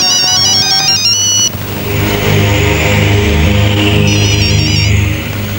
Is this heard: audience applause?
no